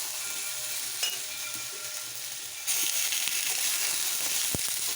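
Ground spices frying in a pan for a quick Bengali home-cooked dish, a steady close sizzle that grows louder about halfway through, with a few light stirring scrapes and no voices.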